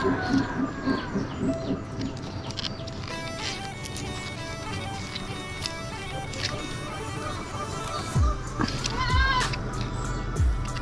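Lamb on a village farm with banana trees bleats in a few wavering cries near the end, amid chirping birds and background rustle.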